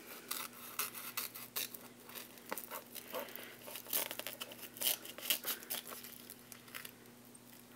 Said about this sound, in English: insert your scissors right up against the cardboard and trim